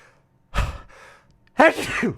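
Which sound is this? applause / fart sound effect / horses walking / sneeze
sneeze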